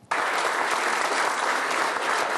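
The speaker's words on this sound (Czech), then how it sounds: "sklidil potlesk" Dense, steady applause from a crowd at the Czech Social Democrats' 2010 election-night gathering in their Lidový dům headquarters, starting abruptly and holding full and loud throughout with no talk over it.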